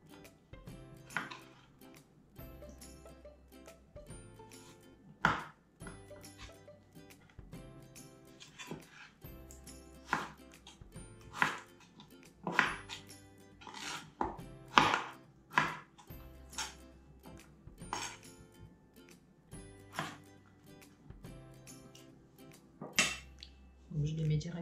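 Knife chopping potatoes into thick wedges for oven fries on a board, irregular sharp cuts with pauses, fairly quiet and close, with faint clatter of kitchenware between strokes.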